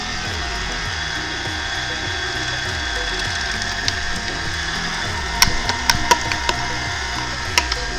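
An electric meat grinder on a coarse plate grinds burger meat with a steady motor drone and a repeating low churning pulse, and light clicks and knocks become more frequent in the second half.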